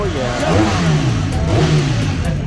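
A Ducati motorcycle engine revs on a group ride to Brooklyn, New York, rising and falling in two loud surges of engine roar, with people talking underneath.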